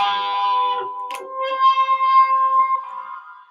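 A sustained, harmonically rich tone drenched in heavy echo and reverb, with repeating pulses smearing into a long, swirling tail that slowly fades.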